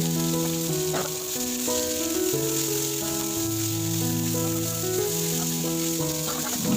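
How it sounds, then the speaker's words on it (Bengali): Dried chillies and garlic crackle in hot oil in a wok over a wood-fired stove, a continuous bright sizzle heard beneath steady background music. "তেলের ওপরে আমি শুকনো লঙ্কা আর রসুন ফোড়ন দিয়ে দিলাম"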